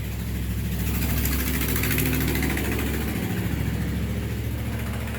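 A vehicle rolls past close by on the road, a loud, steady engine rumble that holds for several seconds with a slight dip partway through.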